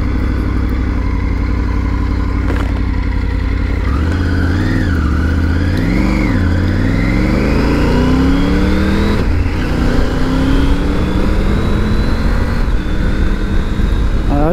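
Triumph Tiger 900 GT motorcycle engine accelerating hard through the gears with clutch use, revs climbing and dropping in repeated rises at each shift, loud and close throughout with no talking.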